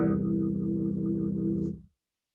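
A single sustained synthesizer tone imitating a cello, warm and low, held steadily for under two seconds before cutting off.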